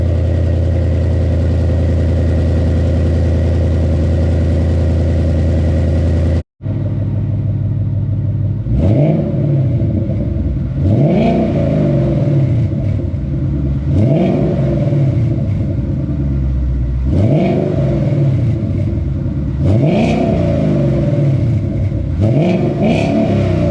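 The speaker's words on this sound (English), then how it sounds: "the white Mustang in the H pipe video, it's a cold start" A Mustang with an H-pipe exhaust cold-starts and idles loudly and close, then gives a series of about six evenly spaced revs that rise and fall over the steady rumble.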